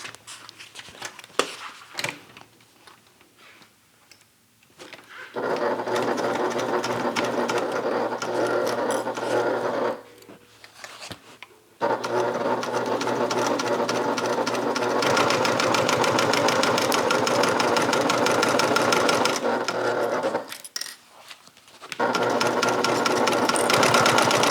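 Sewing machine stitching a bag, running in long steady stretches of rapid mechanical whirring and clatter, broken by short pauses with clicks and handling noise.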